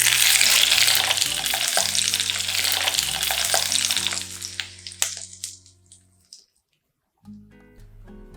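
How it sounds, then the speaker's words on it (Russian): Boiling vegetable oil hits seasoned potato pieces with garlic and spices, bursting into a loud, crackling sizzle that fades over several seconds into quiet, followed by faint stirring noises. "И теперь кипящее масло я выливаю на наши картофельные грибочки."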